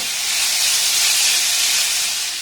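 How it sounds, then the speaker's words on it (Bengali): Cabbage mixture frying in a pan gives off a loud, steady hiss of sizzling oil that holds without a break, with no voices. "জাস্ট এটাকে নাড়াচাড়া করে একটু হালকা করে ভেজে নিতে হবে"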